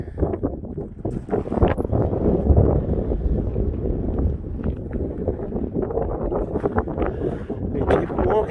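Wind buffets the microphone on an Icelandic mountain path of red rock near the Fremri Eldborg volcano, a loud, steady low rumble with gusty swells throughout, in fog, with footsteps and movement faintly mixed in.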